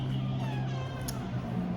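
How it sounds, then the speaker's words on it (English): Pet cat named Milo meowing up close, a drawn-out, slightly whiny call lasting nearly two seconds over a steady low indoor hum, with no talking. "Milo, you naughty kitty cat."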